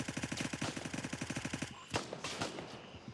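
An enemy emptying a magazine at the player in the Gray Zone Warfare video game: a rapid, evenly spaced burst of automatic gunfire for about a second and a half, then a few scattered sharper shots and clatter.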